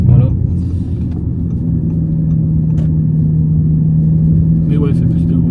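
A close, steady low engine rumble from a Stage 3 Audi S3 8V (505 hp) runs throughout, like an idling car. Brief faint sounds come in over it.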